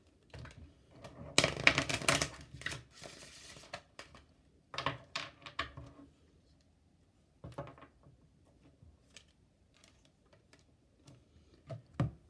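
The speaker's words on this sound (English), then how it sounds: "I want to shuffle this deck." A deck of oracle cards being shuffled by hand, giving bursts of crisp papery riffling and flicking with short pauses between, loudest early on and then softer taps and snaps toward the end.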